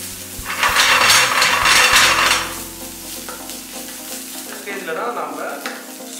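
Tomato paste sizzles in fat in a baking dish while being stirred, a bright loud frying hiss for a couple of seconds that fades to a softer sizzle with scraping stir sounds.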